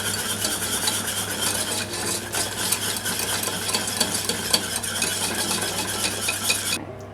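Butter melts in a pan on the stove while a utensil scrapes and stirs around it continuously, over a faint steady sizzle, while cupcake batter is being made.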